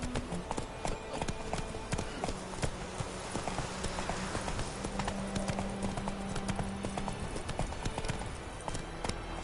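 Roach the horse gallops in The Witcher, a fast steady clip-clop of hooves on ground held at an even rhythm throughout, close and clear with no talk over it.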